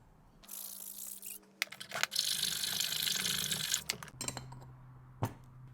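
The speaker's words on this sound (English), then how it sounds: "So I'll give that a little file off" A metal file rasps against the inside of a steel electric skateboard sprocket in rapid back-and-forth strokes, loud and close, with a few sharp clinks of metal between bursts and no talking.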